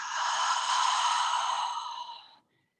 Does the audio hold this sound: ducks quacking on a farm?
no